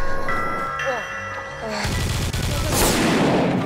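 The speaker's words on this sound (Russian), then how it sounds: "Ого, ты в лицо выстрелил с дробовика" Shotgun fire in Garry's Mod: after a stretch of game music and tones, a loud burst of blasts erupts and rumbles on for the last couple of seconds, with voices talking over the game.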